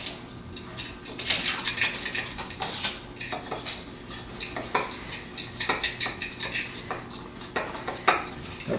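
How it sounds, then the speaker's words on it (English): Dishes and cutlery clatter as cooking ingredients are stirred together with a utensil, a dense run of scraping and clinking close by with sharper knocks scattered throughout. "Now you just have to mix it up. So just use this thing and try to stir it all together."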